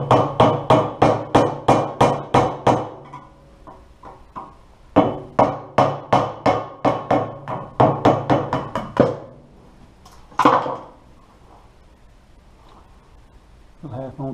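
Hammer striking a punch to drive off a half-moon keyway on a Toro impeller shaft, bursts of sharp metallic blows in quick rhythmic runs of about eight to ten, close and loud, separated by pauses and a few isolated taps.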